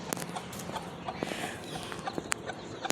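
Chickens cluck softly in a quiet space, scattered short clucks and light clicking sounds at low volume.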